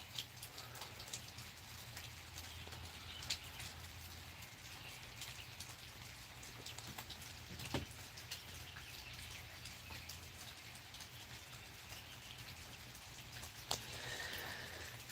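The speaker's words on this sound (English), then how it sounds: "so it's just a rainy, wet Tuesday, y'all." Steady rain falls on a wet Tuesday, a soft continuous patter of drops with a few louder splashes, heard alone at low volume.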